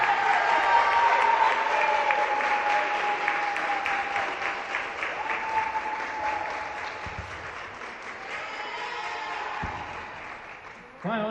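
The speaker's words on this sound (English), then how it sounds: "Let's give another round of applause for Tatiana." Sustained crowd applause fills a basketball senior ceremony, steady and loud throughout with a slight fade near the end, a voice carrying over the clapping at times.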